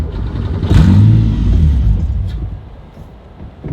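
A Subaru EZ30R engine swapped into a Porsche 911 rumbles loudly and steadily, then its low roar sags and fades away as the engine dies, leaving near quiet.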